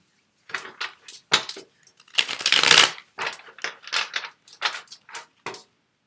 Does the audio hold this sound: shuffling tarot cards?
yes